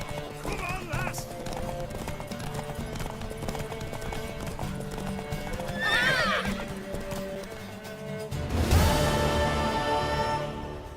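Horse neighing and galloping hooves in the video game The Witcher 3, with whinnies rising over a steady clip-clop of hooves, a loud squealing neigh near the end, and speech intermittently present.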